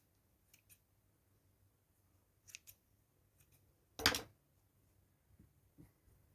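Scissors cut lengths of multicoloured wool yarn for needle felting: scattered soft snips build to one louder, crisp cut near the middle, close and quiet with no talk.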